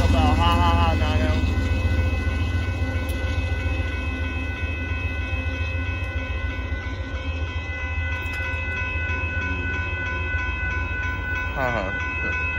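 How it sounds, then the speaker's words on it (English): A northbound Union Pacific tanker train with a KCSM Mexico rear DPU rumbles past at close range, a loud continuous roll of railcars with steady tonal whine and a brief horn-like blast near the end. "There goes that northbound Union Pacific tanker train with the KCSM Mexico, rear DPU"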